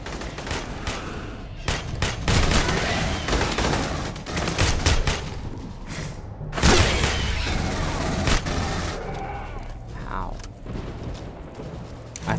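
Sustained gunfire from the video game Aliens: Colonial Marines rattles on in dense, loud bursts with heavy booms mixed in, while voices talk over the battle and the shooting thins out near the end.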